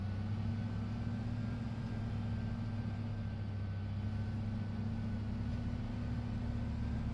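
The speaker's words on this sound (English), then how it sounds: "I love the sound of a Fendt tractor." Fendt tractor engine in Farming Simulator 25, a steady low droning hum with a constant tonal whine, even and unbroken, moderately loud with no talking.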